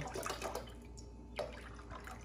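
Liquid from a one-liter container of chocolate milk pours into a popsicle mold in a steady, close splashing stream with a brief louder gush partway through, no talking.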